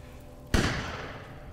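A single sharp gunshot in Resident Evil Village cracks out after a quiet moment, followed by a brief echoing decay.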